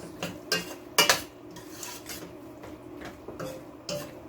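Shrimp and seasoned vegetables get stirred in a pot for Jamaican curry shrimp, a spoon clinking and scraping against the metal in irregular taps and scrapes, close and fairly loud, with no voices.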